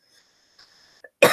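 A single loud cough bursts out after a moment of near silence and faint background tones.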